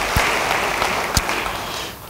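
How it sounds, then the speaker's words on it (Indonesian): Congregational applause during a church sermon, a dense steady patter of clapping hands lasting about two seconds with a couple of sharper claps standing out, fairly close and with no talking over it. "Yang mau beri tepuk tangan bagi dia."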